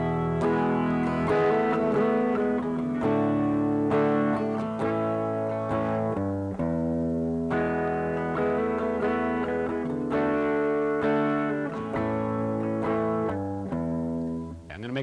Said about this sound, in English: I'll play the chord progression that's in my mind first.